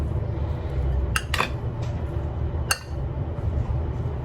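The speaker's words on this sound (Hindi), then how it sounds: "इसको हम अच्छी तरह मिक्स कर लेंगे।" Food being mixed in a bowl at home, spoon clinking against the dish in a few sharp taps and scrapes over steady low kitchen background noise, no talking.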